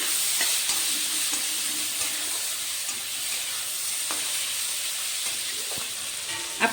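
Chopped tomatoes are stirred in a frying pan while cooking a vegetarian drumstick-flower ghonto: steady close sizzling hiss with occasional soft scraping stirs, no talk.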